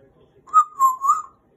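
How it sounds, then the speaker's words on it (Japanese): Three quick whistled notes from an African grey parrot, bright and close, the middle one dipping slightly before a rising final note, with quiet around them. "口笛うまいね。"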